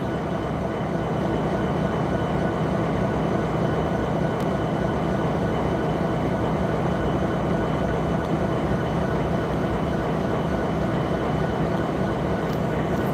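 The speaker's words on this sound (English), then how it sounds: "That train's like way over there too, and I mean literally he's just occupying the crossing" Norfolk Southern freight train standing across a railroad crossing, a steady, continuous broadband rumble with low mechanical hum throughout, loud and unchanging, with no talk over it.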